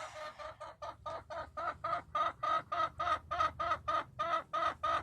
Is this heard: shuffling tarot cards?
no